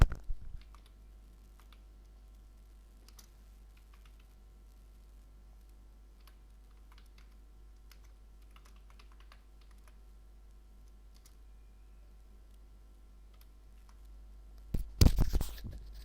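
Keystrokes on a computer keyboard entering a Linux terminal command on a virtual machine, a quiet irregular run of close clicks over a low steady hum, ending in a louder cluster of taps.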